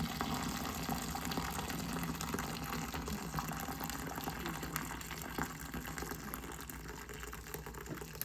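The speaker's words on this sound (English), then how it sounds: "Okay, gotta drain that water off." A pot of pasta cooking water is poured off in a steady, even gush of liquid that runs continuously at moderate distance. Faint kitchen ambience sits underneath, and there is no talk.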